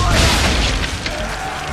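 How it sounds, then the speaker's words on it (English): Swivel gun blast touching off old powder barrels in Assassin's Creed 3: a loud booming burst with crackling debris that rolls on and fades over a couple of seconds, with a voice murmuring underneath. "Now give the swivel guns a turn. More precise. Hit those old powder barrels and light up the sky."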